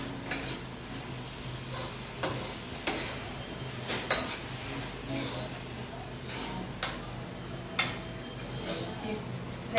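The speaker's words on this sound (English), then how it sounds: "Just keep stirring." Spoon scraping and clinking in a pot as bulgur rice with mixed herbs is stirred, sharp metallic taps recurring every second or so over a steady low kitchen background.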